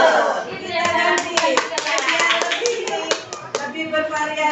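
Group rhythmic clapping chant, likely a class of children, with sharp, evenly spaced handclaps in a steady pattern over several seconds, mixed with chanting voices.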